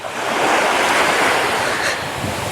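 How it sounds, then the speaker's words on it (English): Gentle Mediterranean sea waves washing onto the coast at Cannes, a loud continuous hiss of surf close by with wind buffeting the microphone and no talk. "lovely sound of the water. The tides are quite gentle today"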